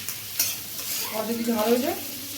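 Capsicum tossed into a hot pan for chilli chicken sets off a soft sizzle with stirring scrapes, close and moderately loud, with no talking.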